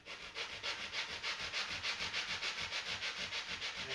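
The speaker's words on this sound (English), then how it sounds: "I think I'm going to finish that with the abrasive pad" An abrasive pad scrubs back and forth over the frets of a bowlback mandolin in steady, rapid strokes, a close, continuous rhythmic rasp with no voices.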